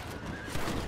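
A horse whinnies in the Red Dead Redemption video game, a short neigh over a rough noisy background with a faint hoof clop, brief and close.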